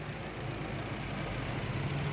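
A 2022 Honda Brio RS automatic with a clean, dry engine idles smoothly, giving a steady, even low hum heard up close with no knocks or irregular noises.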